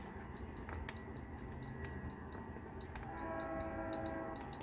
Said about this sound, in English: we got some train tracks going here out by our house.